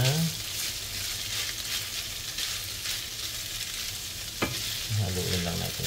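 Food frying in a pan and being stirred, an even close sizzle with soft scrapes of the spoon, and a brief voice murmuring near the end.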